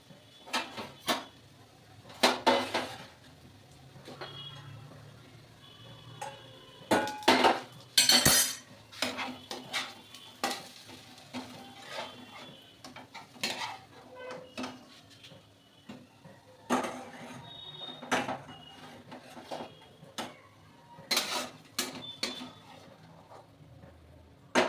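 Dishes and steel utensils being scrubbed and washed in a home kitchen, with repeated clinks and clatters of metal and crockery alongside rubbing and running-water noise, close and continuous in irregular bursts.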